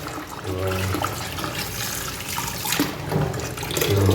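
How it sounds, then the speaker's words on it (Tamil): Rice being washed by hand in water in a home kitchen, basmati grains for kushka biryani, a steady close sloshing and trickling of water that continues through the clip. "இப்போது அரிசியை கழுவிக்கிறவங்க தான்"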